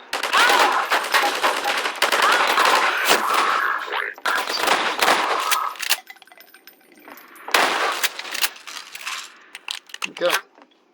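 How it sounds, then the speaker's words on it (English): Loud, dense bursts of automatic gunfire come from a first-person shooter level with the character Alex Vance. They stop and start in rapid rattles, then briefly give way to quieter moments before the firing resumes. "Stop shooting Alex Vance"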